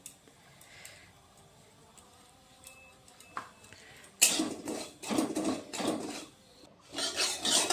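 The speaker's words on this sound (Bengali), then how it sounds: "পুরটা তৈরি করার জন্য প্রথমে সামান্য সুজি আমি ভেজে রাখছি। খালি খোলাতেই ভাজবো, তেল দিচ্ছি না।" Semolina dry-roasts in an empty pan with no oil, stirred with a utensil that gives rasping, scraping strokes against the pan. The scraping comes in repeated close bursts after a quieter stretch with a few small clicks.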